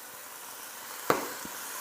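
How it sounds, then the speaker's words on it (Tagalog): Pork marinated in soy sauce and calamansi sautéing with browned garlic in a pan, a constant low sizzle with one sharp clink of a utensil midway, no talk. "Igigisa ko lang ito hanggang sa mag-light brown na yung outer part ng pork"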